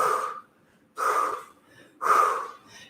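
Three forceful exhales during a workout, each a sharp breathy burst about a second apart, close and clear with quiet pauses between.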